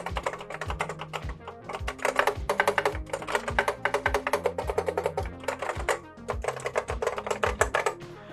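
Rapid clacking of vintage Apple mechanical keyboard keys being typed on, loud and close, with a slight echo and a brief pause midway before the typing resumes.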